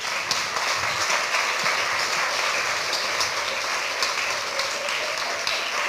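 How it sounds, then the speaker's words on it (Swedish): An audience at a game seminar at the Royal Library claps warmly, a dense and even wash of applause that continues at steady loudness without a break. "Jag skulle vilja att ni ger en mycket varm applåd till Ann-Sofie Sydow."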